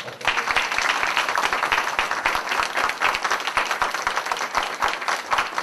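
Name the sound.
applause for a candidate at a press conference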